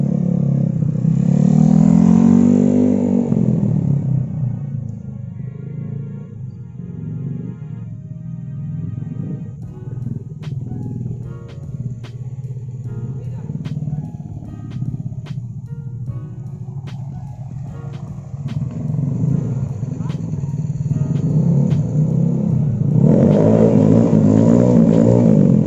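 A Yamaha NMAX 175cc scooter fitted with a Pro Liner aftermarket exhaust rumbles close by, rising into loud revs at the start and again near the end, with a steadier throbbing idle and sharp pops between.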